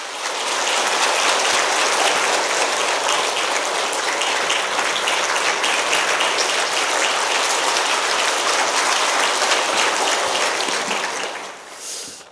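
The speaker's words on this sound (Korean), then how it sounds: "우리 박수로 환영하겠습니다." Steady, dense applause from a large church congregation at a Wednesday worship service, sustained for several seconds before tapering off at the end.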